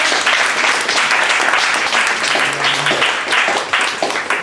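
A crowd at an evening data visualization meetup gives a round of applause, dense, steady clapping that fills the room throughout at close range.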